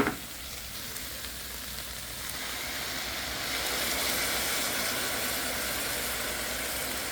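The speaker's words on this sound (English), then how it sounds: "I'm going to be using this Noble Made dairy-free medium buffalo sauce. And I'm going to dump this whole bottle into here." Soy curls sizzling in a pan as a bottle of Noble Made dairy-free medium buffalo sauce is poured in, a dense continuous hiss and crackle that swells slightly midway and holds steady.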